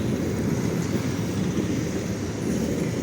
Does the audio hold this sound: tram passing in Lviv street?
yes